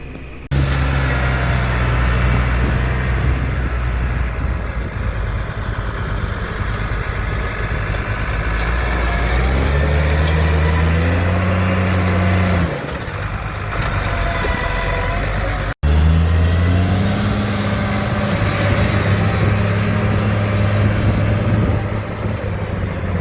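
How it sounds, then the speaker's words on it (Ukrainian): New Holland tractor ploughing unbroken, snow-covered ground at minus eight degrees without a diff lock, its engine droning loud and continuous as the pitch rises and falls under load, with a brief cut near the end. "Местами останавливается трактор."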